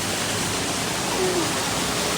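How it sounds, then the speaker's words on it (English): Water pouring over the grist mill water wheel at Dollywood, a constant rushing splash like a small waterfall, steady and close, with a brief faint tonal sound partway through. "Got this nice water over here on this water wheel."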